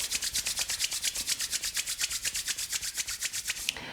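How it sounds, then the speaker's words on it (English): Hands rub vigorously together in a quiet room, a fast, even run of about two dozen dry swishing strokes, close and alone. "take the hands and begin to rub them vigorously together to create some heat"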